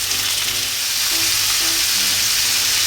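Pork and cheese wrapped green peppers fry steadily over medium heat in a pan, a constant close, loud sizzle with faint low hum beneath and no talking.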